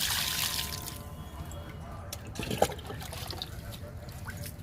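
Liquid fertilizer poured onto a jasmine plant, a soft trickling, dribbling flow close by with a brief splashy burst midway, faint throughout.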